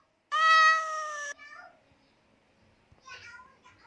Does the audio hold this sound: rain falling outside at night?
no